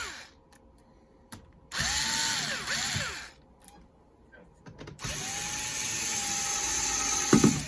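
A power screwdriver on an HP laptop runs in two close, loud bursts, whining up and down in pitch as it backs out the hinge screws, with quiet pauses between.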